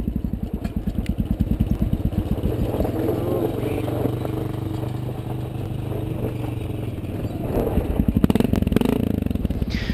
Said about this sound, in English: I actually end up stalling my 650 on the way down